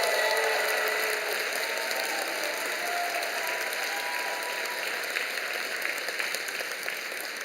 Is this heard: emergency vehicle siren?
no